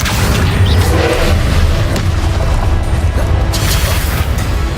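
Spellcasting blasts in Hogwarts Legacy, Incendio and Confringo, heard as a run of heavy booms and crashing impacts layered densely over a loud, continuous rumble.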